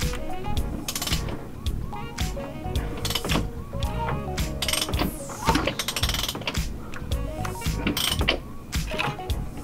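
A ratchet turns a VW 2.0T TSI engine over by hand, giving rapid, close clicking bursts that repeat in quick runs with brief pauses, mixed with mechanical clatter.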